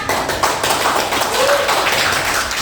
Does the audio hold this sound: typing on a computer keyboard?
no